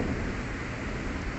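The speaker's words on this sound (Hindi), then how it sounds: "इधर देखिए कितनी बारिश हो रही है" Heavy monsoon rain pours steadily at a home garden, a dense, constant hiss that stays loud throughout with no talking.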